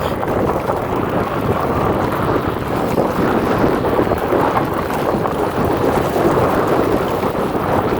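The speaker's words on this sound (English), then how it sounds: "So this is me riding in gravel here." An electric fat tire all-terrain bike rolls over rocky gravel, making a loud, continuous rumbling crunch with wind buffeting the microphone and no talking.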